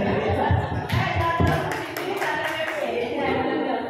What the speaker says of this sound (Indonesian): Beri aplaus lagi buat saya.